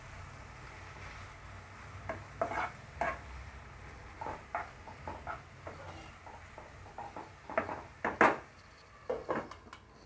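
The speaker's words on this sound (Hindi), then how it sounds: "ये सभी मसाले डालकर मैं इसको अच्छे से मिक्स करूँगी" Spices being stirred into tomatoes in a pan with a spoon, giving intermittent scraping clicks and soft clatters over a low sizzle, moderately close and without talk.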